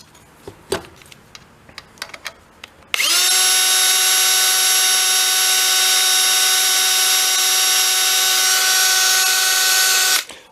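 Compressed air blows through a rusty fluid-line part on a Yamaha Kodiak ATV. A few light clicks and handling knocks come first, then a loud, steady, whistling hiss runs unbroken for about seven seconds and cuts off sharply.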